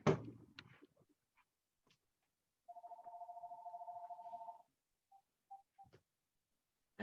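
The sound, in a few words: phone ringing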